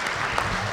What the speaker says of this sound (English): let's have a round of applause for Aaron